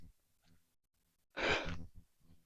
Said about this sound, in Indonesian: Ngos-ngosan kita habis lari